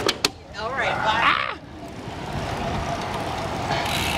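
Steady road traffic at a rush-hour evening ride near Windansea Beach in Southern California, a continuous broadband hum of passing cars with a brief voice and clatter near the start.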